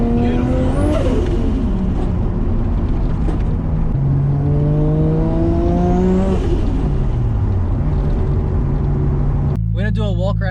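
A 550 hp Nissan R33 with an RB25DET engine revs high through a corner, with rising and falling engine tones and gear changes heard loudly from inside the car, ending in a brief burst of electronic sound.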